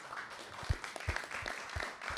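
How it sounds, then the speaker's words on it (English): A small lecture audience claps in a brief, scattered round of applause, close and moderately loud, with a faint voice underneath. "So let's give Tom a round of applause."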